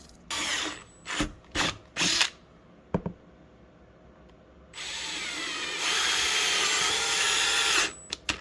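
Power drill boring holes for a cab heater install on a CFMOTO ZFORCE, several short close bursts of whining drilling, then a longer sustained run near the end.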